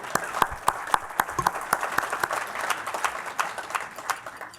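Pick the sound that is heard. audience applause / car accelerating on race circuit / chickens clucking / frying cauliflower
audience applause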